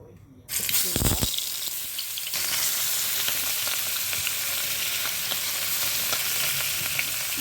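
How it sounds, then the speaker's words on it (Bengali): Fish pieces drop into hot oil and fry with a loud, steady sizzle that starts abruptly and continues close up, with a brief splash as they go in. "তেলটাও গরম হয়ে গেছে। আমি আবার দিয়ে দেব মাছ।"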